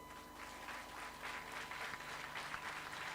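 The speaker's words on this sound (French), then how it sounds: "Vous entendez les quelques applaudissements" Scattered applause comes from an audience at a medical lecture, soft and distant, the clapping in uneven bursts over a low steady hum.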